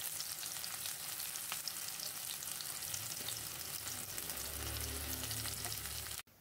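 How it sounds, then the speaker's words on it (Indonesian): Sliced shallots sautéing in hot cooking oil, a steady close crackling sizzle throughout, with a low rumble toward the end before it cuts off abruptly. "Kemudian panaskan minyak goreng, tumis terlebih dahulu irisan bawang merahnya."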